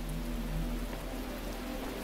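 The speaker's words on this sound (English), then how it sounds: "It's raining." Rain falling in the video game The Talos Principle, a steady, soft hiss of drops on surfaces with a low rumble beneath, continuous and without any talking.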